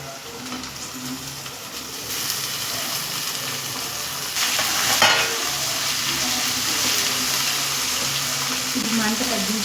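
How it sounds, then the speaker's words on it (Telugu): Cut okra frying in a pan in a home kitchen, a steady close sizzle with stirring scrapes and brief watery splashes, continuous and fairly loud with no talking. "బాగా ఫ్రై అయిన తర్వాత క్లీన్ చేసి కట్ చేసిన బెండకాయని కూడా ఇందులో వేసుకోవాలండి."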